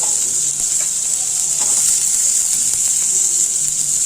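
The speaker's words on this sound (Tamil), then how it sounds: "நல்லா வதக்கிட்டு கொஞ்சம் வதங்கட்டும்." Chopped large onions sauté in a hot pan with a loud, steady sizzle and occasional scraping stirs, close up and continuous with no talking.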